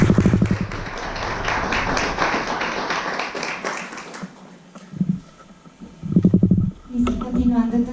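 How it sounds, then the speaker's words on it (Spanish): An audience at a panel discussion applauds with several seconds of dense, continuous clapping that fades out, followed by brief bursts of nearby talking. "Un aplauso, por favor."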